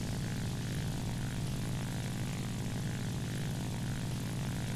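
Propeller engine of an SBD-3 Dauntless dive bomber in War Thunder drones steadily at close range, a dense low rumble holding even for the whole stretch with no other sounds.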